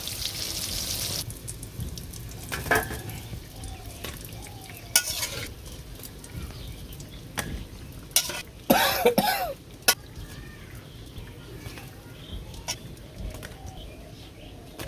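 Chopped pointed gourd (potol) fries in a pan with a low, steady sizzle, broken by intermittent scraping stirs and a few louder clatters. A cough and faint talking are heard.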